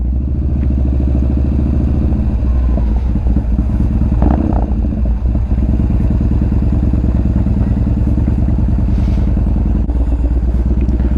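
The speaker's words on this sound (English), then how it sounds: "Bike is on for now. Little burnout right there." A motorcycle engine idles steadily and loudly right after a short burnout, its low rumble continuous with some mechanical clatter and a brief rev near the middle.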